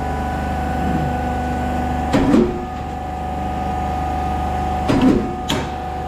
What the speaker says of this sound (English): Smaller notching machine.